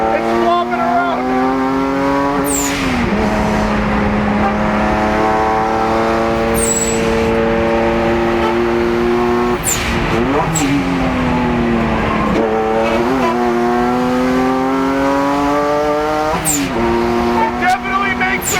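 A twin-turbo Porsche Boxster driven hard on a track, its engine droning loud and close from inside the car, pitch climbing through each gear before dropping at the shifts, with short bursts of noise along the way.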